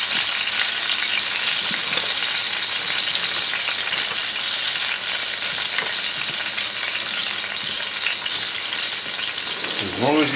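Loud, steady sizzling and bubbling of chicken breast sauteing in a hot pan with white wine, with faint occasional stirring and a brief voice near the end.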